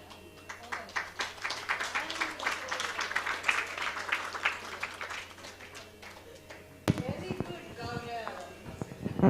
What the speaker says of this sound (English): One more big applause to Gaurav